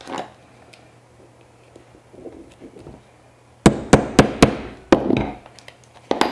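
A hammer strikes a rivet setting tool in quick succession, four sharp loud close impacts followed by a couple more taps after quieter handling noise, with no talking.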